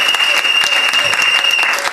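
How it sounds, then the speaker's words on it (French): Dense, steady applause from a church congregation during a service, sustained and fairly loud throughout with no pauses. "Il faut applaudir à Dieu."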